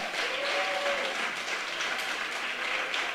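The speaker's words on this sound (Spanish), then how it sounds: "Dale fuerte el aplauso a Jesucristo." A church congregation applauds for Jesus Christ, a steady wash of clapping from many hands throughout, with no voices on top.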